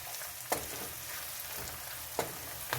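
Onions fry in a pan while they soften toward translucent, giving a steady, close sizzle. Three sharp clicks from a utensil against the pan cut through at irregular moments, with no talk.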